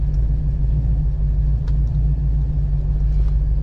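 A car engine idles and rumbles at a stoplight after a fuel tune, a steady, loud low drone that stays even with no clear rev rise.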